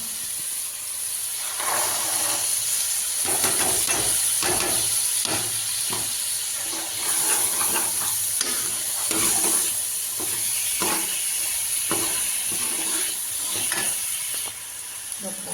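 Tomatoes frying in onion-spice masala for mutter paneer give a loud, continuous sizzle with repeated scraping stirs of a spatula, steady throughout and close by.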